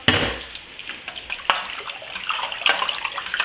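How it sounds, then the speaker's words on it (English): Water pours steadily into a pot with a bright, splashing rush that stays fairly loud throughout, with no voices. "I'm going to add some water to make more stock"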